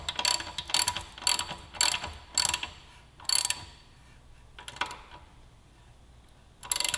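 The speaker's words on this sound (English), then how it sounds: "just got a 3/8 ratchet here. 11mm deep well to accommodate that." A 3/8-inch ratchet with an 11mm deep-well socket snugging an exhaust bolt on a 2017 Kawasaki Z900 slip-on install, giving several bursts of close, crisp pawl clicking, then a pause and two later short bursts.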